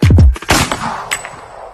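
A gunshot sound effect in a reggae track, a loud burst of rapid close blasts at the start that decays into a ringing tail.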